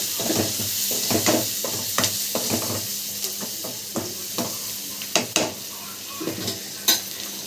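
Turmeric and pink salt are stirred in a frying pan, a spoon scraping and knocking against the metal in irregular strokes over a soft background sizzle, close and clear with no talking.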